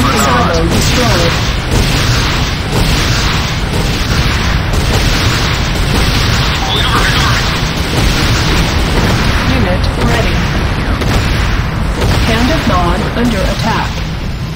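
Dense, continuous booming and crashing explosions in a Command & Conquer: Renegade battle as a GDI Tiberium silo is destroyed, loud and sustained throughout, with occasional voice announcements mixed in.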